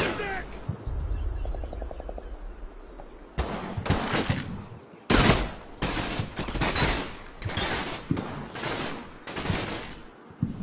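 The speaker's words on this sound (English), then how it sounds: "how many rifle nades do they have?" Sharp gunshots and rifle grenade blasts from the video game Combat Mission: Battle for Normandy fire in irregular loud bursts after a quieter stretch with faint mechanical creaks and bird chirps.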